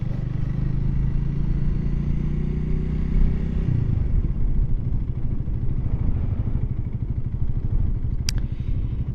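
Honda Rebel 300 motorcycle riding with a steady engine drone; around the midpoint the pitch drops sharply as a gear is shifted, then the engine pulls on at a lower, rougher note with a brief click near the end.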